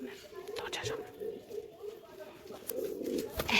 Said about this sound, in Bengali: ইস কত সুন্দর পায়রাটা ইস কার পায়রা নাকি জংলা পায়রা